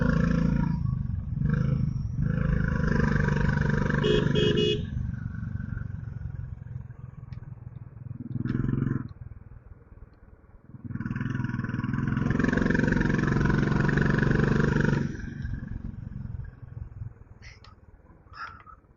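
A restored Classic 500 motorcycle ridden at night along the Tirupati–Kalahasti bypass road. Its engine roars close and loud in long surges that briefly drop away, then swell again, with no talk.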